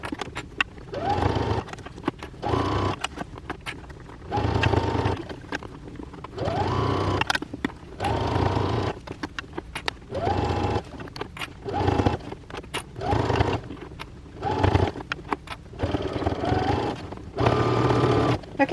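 A sewing machine stitches through the layers of a welt-pocket Christmas stocking, whirring in a steady series of short, loud bursts separated by brief pauses.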